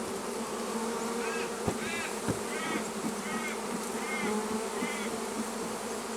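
Honey bees buzz steadily around a new hive while brood is being moved in, a dense, continuous insect hum close by with individual bees droning past, no talk.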